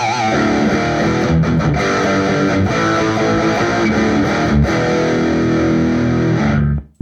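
Heavily distorted electric guitar played through a tube amp and a Two notes Captor X, a dense, loud, sustained riff with chugging notes that rings continuously before cutting off abruptly near the end.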